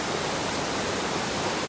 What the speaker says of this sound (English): This appears to be a waterfall.